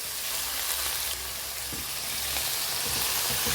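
Methi (fenugreek) leaves fry in a hot pan, giving a steady, close, loud broadband sizzle with faint stirring clicks throughout, no voices.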